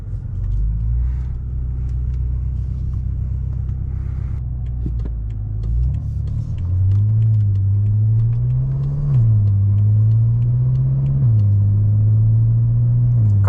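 A cold BMW M5 engine, around 750hp, idles with a deep, steady rumble while warming up, then its pitch climbs and wavers as the revs rise and fall slightly.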